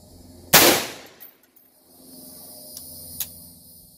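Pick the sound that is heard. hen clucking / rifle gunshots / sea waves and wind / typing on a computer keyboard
rifle gunshots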